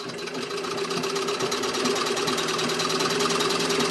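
A treadle sewing machine runs steadily up close, a rapid even mechanical chatter with a low rhythmic hum throughout and no talking.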